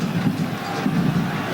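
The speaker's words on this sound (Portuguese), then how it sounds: "A torcida do Vasco levou um susto depois do gol do Santos. Agora volta a gritar." Vasco football fans roar and shout in a packed stadium during a 1998 Brazilian championship match against Santos, a dense, continuous wall of crowd noise with surging chants and no clear individual voices.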